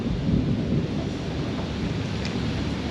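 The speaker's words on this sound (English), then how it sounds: "it's raining like the dickens out there right now" Heavy rain pours outside a garage while thunder rumbles, a loud, steady wash of rainfall with deep low rolling throughout and no voices.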